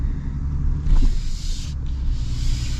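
A Toyota Tundra TRD Off-Road pickup truck pulls away, its engine rumble swelling briefly then settling into a steady low drone heard from inside the cabin.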